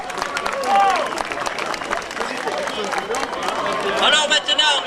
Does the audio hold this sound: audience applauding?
yes